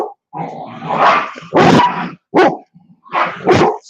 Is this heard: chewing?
no